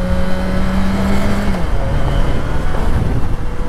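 A 2010 Yamaha FZ6R motorcycle accelerating from a traffic light on a hot Dallas street, the engine note climbing and then dropping at a gear change before building again, close and loud.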